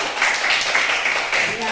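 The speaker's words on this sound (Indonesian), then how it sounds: "Tepuk tangan buat semua." A classroom group claps together for everyone after a lesson question, a steady dense patter of many hands held at even loudness throughout.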